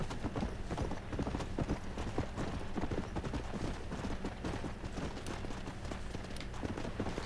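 Steady rapid clip-clop of horse hooves galloping without pause in the video game Red Dead Redemption: Undead Nightmare, dense and continuous, with no voices over it.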